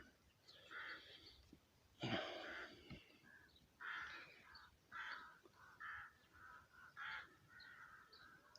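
A crow caws repeatedly at a distance, faint harsh calls coming in an irregular series over an outdoor background hiss.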